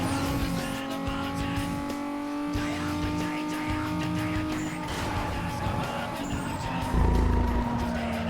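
A car in Need for Speed Most Wanted driving over cobblestone paving, a steady engine drone with rough rumbling texture that grows louder near the end, heard alone.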